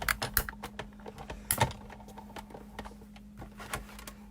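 Paper is cranked through a Big Shot die-cutting machine, producing close, irregular plastic clicks and knocks over a low steady hum, with a sharper clatter midway.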